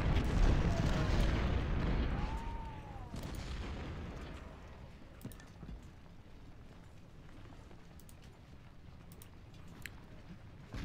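Civil War artillery shelling in the strategy game Ultimate General at Fredericksburg: a heavy rumbling barrage that fades into a steady distant din with scattered faint cannon thumps and crackling musketry.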